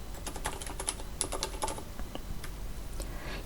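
Rapid typing on a computer keyboard while filling in an Excel spreadsheet formula, a steady run of close, crisp key clicks with no talk.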